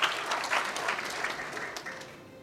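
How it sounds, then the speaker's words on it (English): Applause from the audience at a climate change adaptation conference as a government minister is welcomed to speak, moderate in level and fairly distant, easing off slightly toward the end. "let us welcome with our warm applause"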